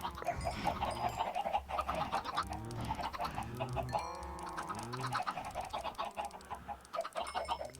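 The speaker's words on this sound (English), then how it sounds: "That's why the chickens are so great." Several Minecraft chickens cluck over and over in a steady chorus, faint but continuous, with no voices over the flock.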